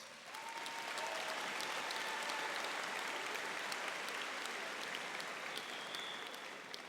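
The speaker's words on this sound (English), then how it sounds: "So let's give them another nice round of applause." Steady, sustained applause from a large audience at a high school commencement ceremony, many hands clapping continuously throughout with no pauses.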